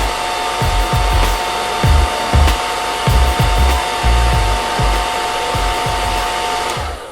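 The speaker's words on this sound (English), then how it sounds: "I'm going to quickly run my blow dryer through it" A blow dryer whines steadily at close range while brushing or rubbing strokes scrape rhythmically through the hair underneath.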